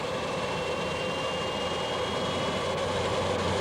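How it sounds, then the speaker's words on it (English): A Honeywell TPE331 turboprop engine spins up, a loud continuous roar with a steady whine running through it, close and unbroken, no voices. "Let's start the engines."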